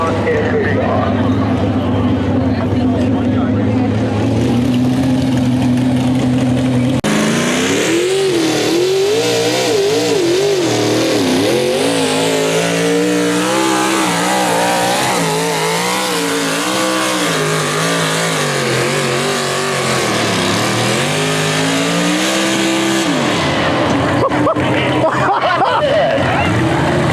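Big-block pulling tractor engines roar loudly at a county fair tractor pull, the pitch climbing and wavering through a long sustained run, while a crowd murmurs beneath.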